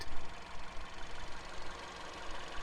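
A Peugeot 3008 with a 1.6-litre turbocharged DOHC 16-valve inline-four petrol engine idles steadily and close by, a continuous even rumble with faint ticking and no voices.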